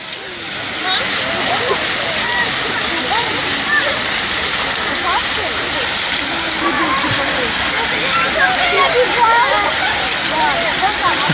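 Children splashing and bathing in a fountain, a constant loud rush of falling water with splashes, and children's voices and chatter mixed in throughout.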